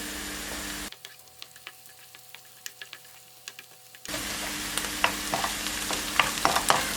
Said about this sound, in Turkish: Şimdi soğanlarımı soteledim.